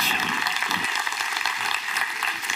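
A church congregation applauds together in a service hall, the clapping sustained and fairly loud, forming a dense, even crackle with no voices standing out.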